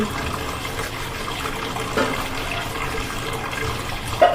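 Water runs steadily at a household tap while items are washed, a continuous splashing flow with a brief louder clatter near the end and no talk.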